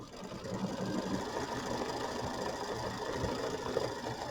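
A Kimberbell embroidery machine steadily stitches decorative edging on a mini quilt, with a continuous close mechanical whir and rapid needle rattle running without talk.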